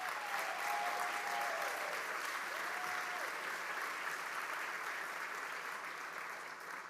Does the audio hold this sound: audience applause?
yes